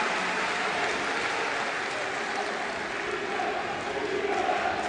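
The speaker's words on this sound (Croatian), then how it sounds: "Ovacije za Stefana Sinoveca." Sustained crowd ovation and applause for player Stefan Sinovec inside the Jezero hall during a handball match, a dense, steady wash of clapping and cheering that holds at an even level throughout.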